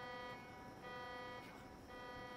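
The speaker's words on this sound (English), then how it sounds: "That alarm is really loud." A car alarm sounds in the video game Saints Row 2, a steady, fairly quiet electronic tone that pulses in repeating cycles with no talk over it.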